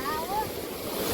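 Water rushes over a waterfall at the Sandhida Nilkanth Mahadev site, a brief steady roar of flowing water with a faint voice in the background.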